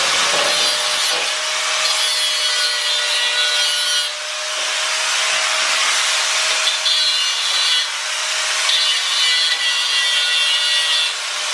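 A piece of thick metal is cut by hand for a racing mower throttle pedal build, giving steady back-and-forth sawing strokes, close and loud with no talking.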